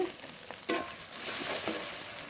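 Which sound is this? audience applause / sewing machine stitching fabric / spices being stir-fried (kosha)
spices being stir-fried (kosha)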